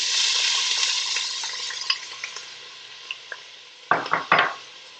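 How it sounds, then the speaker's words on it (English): Onions sizzle steadily in hot oil for a bolognese-style ragù sofrito, a continuous close frying hiss with a few light clicks, then several louder scrapes or stirs near the end. "So when the oil starts to be hot, we put inside the onions"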